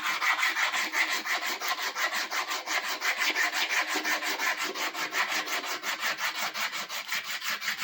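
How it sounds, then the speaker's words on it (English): Sandpaper rubbed by hand over a wooden bushcraft drill handle to take down rough edges, a close, steady back-and-forth scratching with quick even strokes throughout. "Just grab sandpaper."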